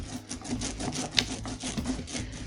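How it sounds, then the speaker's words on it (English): A roller spreading lino printing ink across a flat surface, a continuous close sticky rasping with rhythmic back-and-forth strokes, tacky and Velcro-like, steady throughout with no voices. "I'm now going to roll out the ink all over in every direction so I get an even coating on the roller"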